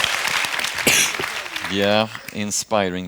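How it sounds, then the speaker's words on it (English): Audience applause at a youth science seminar in Sweden rises briefly at the start, then gives way as a person speaks over the fading clapping. "One more applause."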